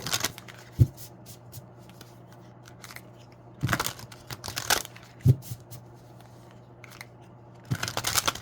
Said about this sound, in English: I'm going to start off by pulling a few oracle cards